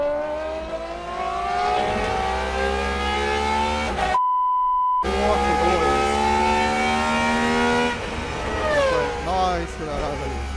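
A Gordon Murray GMA T.50s supercar's V12 engine revs up and down in a loud, high-pitched harmonic wail. The sound cuts out briefly before returning to sweeping, climbing pitches.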